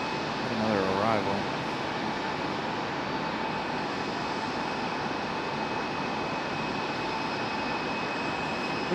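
Aircraft arriving at Raleigh-Durham International Airport at night, a steady broadband jet roar held throughout, with a brief voice near the start.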